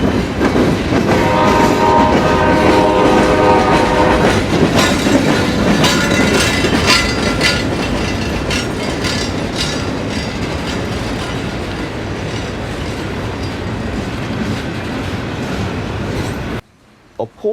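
A westbound local freight train led by two Norfolk Southern locomotives rolls past, horn sounding early, then a long steady rumble with clattering wheels and cars, loud and close, cutting off abruptly near the end.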